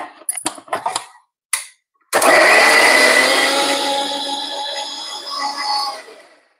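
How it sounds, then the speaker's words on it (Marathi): A mixer grinder grinds a coriander masala paste with water for a Malvani dish: a few short clicks and taps, then a loud close whirring grind that slowly fades and stops. "कोथिंबीर वगैरे मी घातलेलं आहे. वाटण करून घेते."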